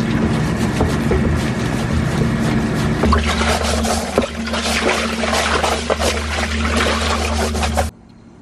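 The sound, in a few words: water flowing in hydroponic greenhouse system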